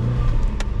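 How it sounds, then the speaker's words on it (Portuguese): A Volkswagen Parati pulls away slowly in first gear, its engine a steady close low rumble with a brief higher burst near the end, no voices over it. "Agora sai devagar, vai girando o volante."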